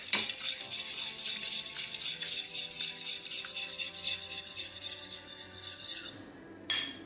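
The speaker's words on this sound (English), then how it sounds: "Make sure you're stirring that around nicely so it doesn't cook." Spoon or whisk rasping steadily around a pot as egg is stirred into a warm bread pudding custard for caramel pecan bread pudding, a continuous scraping scrape close by that stops near the end.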